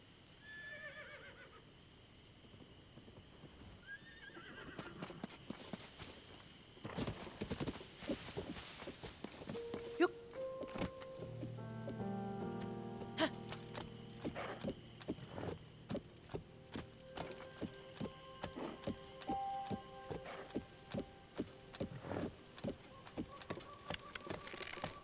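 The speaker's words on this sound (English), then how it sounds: "Let's get the horses going." Horses in The Legend of Zelda: Tears of the Kingdom, with a couple of whinnies early on, then a long run of rhythmic hoof clip-clops under swelling game music, fairly quiet overall.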